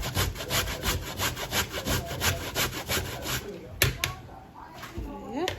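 Sweet potato is rubbed against a grater in quick rhythmic rasping strokes, about three per second, which fade out partway through as a voice speaks briefly near the end.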